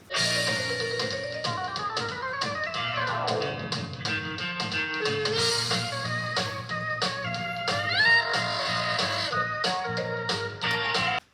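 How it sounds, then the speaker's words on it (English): A trombone plays sliding, brassy lines over a busy band backing with horns and rhythmic percussion. "You hear that trombone?"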